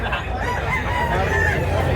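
Rooster crowing amid a busy gamecock market, with other fowl clucking and crowd noise filling the background continuously.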